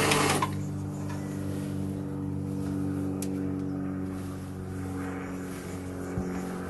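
Sewing machine stitching fabric, a steady close mechanical whirr that holds a constant hum throughout, without talk.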